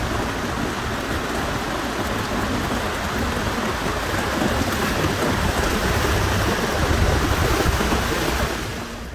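Heavy monsoon-season rain pours steadily over an outdoor bonsai forest, a loud, dense, continuous hiss of drops on leaves and surfaces with a low rumble beneath, and no voices.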